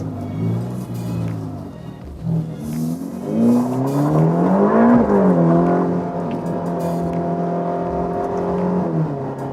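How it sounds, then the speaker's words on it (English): Ferrari Roma twin-turbo V8 pulling hard on a third-gear kick-down, a loud close engine note climbing steadily in pitch through the rev range, then holding a strong sustained drone near the end. "Even in third gear, when I'm kicking it down, it has enough power to take off."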